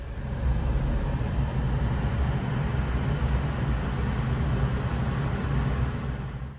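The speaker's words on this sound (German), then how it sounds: "Das heißt, 10 Minuten lang jetzt Fahrzeug laufen lassen bzw. Erhaltungsladung rein und volle Pulle Lüfter System anmachen und Heizung an." A VW car idles with its ventilation fan and heater running on full, giving a steady, even roar of rushing air over a low engine hum, with no talking.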